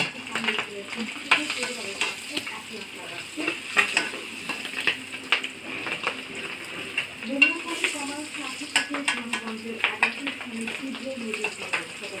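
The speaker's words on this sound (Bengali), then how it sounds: "দেখেন ডিমটা খুব সুন্দর ভাজানো হয়ে গেছে" An egg fries in a pan for an egg-potato lentil dish, with steady close sizzling and repeated scrapes and clinks of a utensil against the pan, the sizzle continuous underneath throughout.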